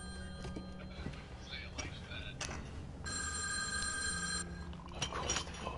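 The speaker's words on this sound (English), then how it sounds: "Of course the phone rings." An electronic telephone in the video game Erica rings repeatedly in short bursts of high tones, mixed with quieter game sounds and a voice talking nearby.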